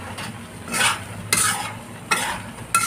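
A spoon stirs pork and kidney bean adobo in a pan, with scraping strokes over a soft sizzle and simmer, close and steady with a few sharper clinks against the pan.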